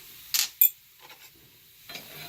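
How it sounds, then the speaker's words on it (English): A spoon or spatula stirring seasoned marinated mushrooms in a pan, with two sharp scraping clacks early and softer stirring sizzles later, close and with no talking. "Okay, give this up a little stir"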